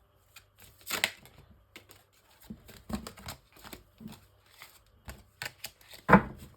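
A well-used Lenormand card deck is shuffled by hand in short bursts of riffling and slapping, close and alone, with pauses between and a sharper flurry near the end.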